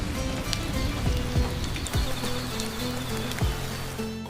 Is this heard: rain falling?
yes